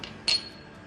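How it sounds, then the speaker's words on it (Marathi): Chopped green chilies dropping into a khalbatta mortar, a single short clinking impact, close and soft against near silence. "सो खलबत्त्यामध्ये मी ही चिरलेली जी मिरची आहे ती टाकून घेते"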